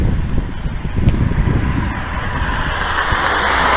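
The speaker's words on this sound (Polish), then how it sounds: "jest zimny arktyczny wiatr" Strong, cold arctic wind buffets the microphone with a low, rumbling roar and gusty bursts, loud and continuous outdoors on a sunny day of about 6°C.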